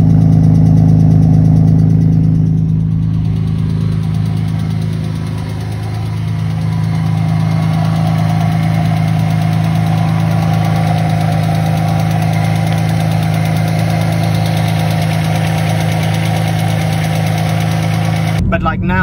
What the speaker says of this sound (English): Usually after I drive the car that hard, the engine starts ticking,